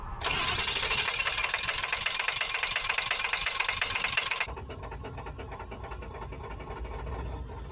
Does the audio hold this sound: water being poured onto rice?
no